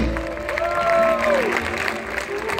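Audience applause at an outdoor Lahaina luau in Maui for a group of Tahitian drummers, with a broad wash of clapping and some cheering, while a sustained tone and a voice drift over the top.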